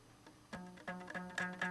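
A rubber band stretched around a Kleenex box is plucked several times, giving soft twangy tones with a low pitched ring, a few quiet plucks at first and then louder ones in an uneven rhythm, close up with no talking.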